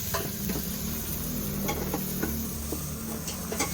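Ginger and onion sautéing in a pan, a steady sizzle with the scrape and tap of a stirring utensil against the pan recurring every half second or so, close and fairly loud throughout.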